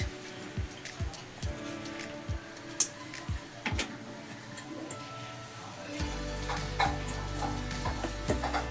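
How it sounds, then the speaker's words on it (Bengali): Fried silver carp slid into a boiling mustard curry gravy, with a series of clinks and knocks from the pot, then a steady bubbling and hiss from the simmering gravy. "ঝোল ফুটে গেছে দিয়ে দিচ্ছি ভেজে রাখা মাছ"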